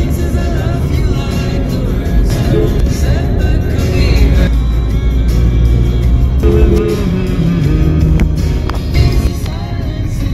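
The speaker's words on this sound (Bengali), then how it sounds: "পুরো একদম মাখন ফ্লাইওভার সাই করে যাচ্ছে গাড়ি" A car speeds along a smooth flyover on a road trip from Kolkata toward Mandarmani, giving a steady loud engine and road roar with continuous tyre hum throughout, no voices.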